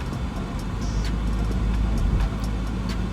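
A Porsche Macan's 4-cylinder engine pulls steadily under acceleration, a continuous close hum and road rumble from inside the car with no talking.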